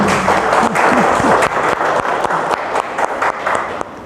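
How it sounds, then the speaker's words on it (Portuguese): An audience at a spiritual talk breaks into loud, dense applause that carries voices and cheers, then gradually thins to scattered claps. "Vamos aplaudir também 2025?"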